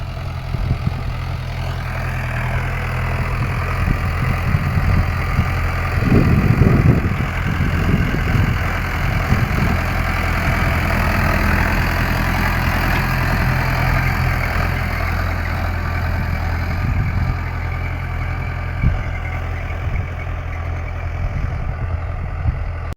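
A heavy diesel tractor engine idles and rumbles steadily throughout in a field being ploughed, with a brief louder revving burst partway through and no voices.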